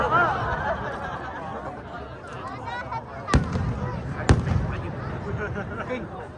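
Fireworks at a fireworks festival in Tonami, Toyama, go off as two sharp, loud bangs a second apart over a crowd, while people chatter and call out nearby.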